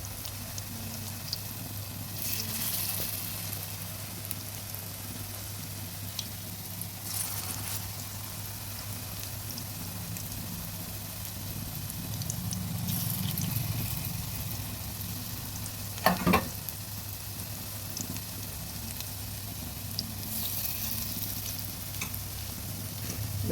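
Banana blossom pakoras sizzle steadily in hot oil, a continuous close frying hiss with soft stirring noises and one brief sharp clatter partway through.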